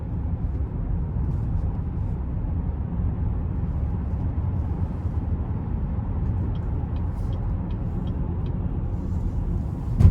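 A 2021 GMC Acadia SLT Elevation Edition with the 3.6 engine on a test drive gives a steady, close cabin rumble of engine and road noise, low and even throughout, with a faint clunk at the end.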